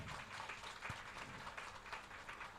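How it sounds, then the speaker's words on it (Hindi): An audience at a Shrimad Bhagwat Katha religious gathering claps in sustained, fairly faint applause, rippling on without pause as a dense wash of hand claps. "जोरदार ताली भाई इसकी"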